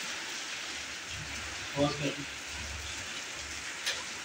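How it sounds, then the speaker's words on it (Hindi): Heavy rain falls outdoors as a steady, dense hiss with a few brief louder bumps and a faint word spoken over it. "बारिश भी तेज है"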